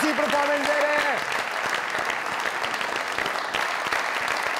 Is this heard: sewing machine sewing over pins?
no